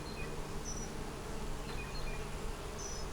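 Honey bees from a large swarm hum in a steady, enveloping drone, with single bees zipping by close at hand in brief higher-pitched buzzes; no voices.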